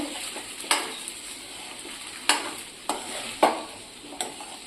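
A spoon scrapes and stirs sabudana khichdi in a pan, with several sharp scraping knocks spaced irregularly over a soft, constant sizzle close by.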